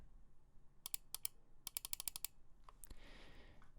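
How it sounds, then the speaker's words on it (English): A Logitech G305 gaming mouse clicked close to the microphone, producing sharp, crisp ticks in quick bursts and then a brief rustle, with no voices. "here is the right click of the G305"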